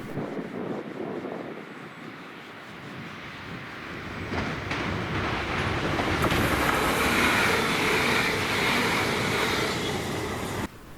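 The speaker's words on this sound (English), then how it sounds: "Then this is 2J84, the 1316 ScotRail service to Edinburgh from Glasgow Queen Street with 385014." ScotRail Class 385 electric train 385014 on the Glasgow Queen Street to Edinburgh service passing at Greenfoot, a rising rush of wheels and air building from quiet to a loud, broad roar that holds to the end.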